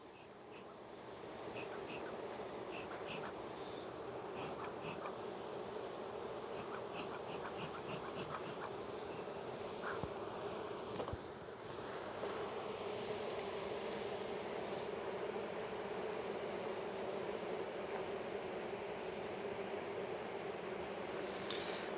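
Honey bees buzz continuously around a hive during a hot, humid hive inspection. The dense, steady hum of many bees lasts throughout, with occasional closer passes. No voices are heard.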